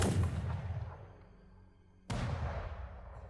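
A lombard, an early bronze cannon, fires twice in a row: a booming blast with a long rolling decay, then a second sharp, loud report at close range that rumbles away, with no voices.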